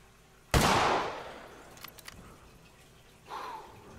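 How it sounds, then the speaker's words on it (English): A single sharp rifle shot in theHunter Classic while hunting roe deer, loud and close with a decaying echo, a few faint clicks after, and a softer second report near the end. "I think I might have shot a little bit too high."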